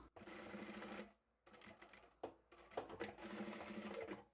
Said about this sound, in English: I'm going to sew the ends of the handles, back stitch at the beginning and the end